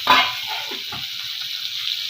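Ghee heats in a kadai for rava ladoo, starting with a brief louder crackle that settles into a soft, steady sizzling hiss, heard alone.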